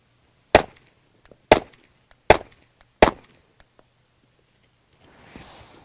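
Four suppressed 9mm subsonic gunshots through a Liberty Mystic X silencer on a .22, sharp evenly spaced cracks about a second apart, quiet and close, followed by faint distant range noise.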